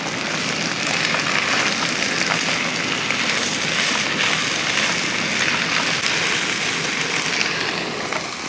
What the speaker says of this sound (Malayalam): തേങ്ങാക്കൊത്തും ഒക്കെ മൂത്തതിന് ശേഷം നമ്മൾ ഈ അരിച്ച് വെച്ചിരിക്കുന്ന ഏത്തക്ക അങ്ങോട്ട് ഇട്ട് കൊടുക്കുക ഇനി ഇതൊന്ന് ഇളക്കി കൊടുക്കാം